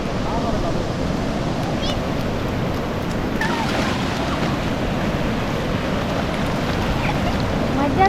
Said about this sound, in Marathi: मोठी लाट